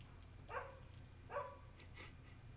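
Dog barking outdoors, two short barks about a second apart, faint and distant over a low background hum.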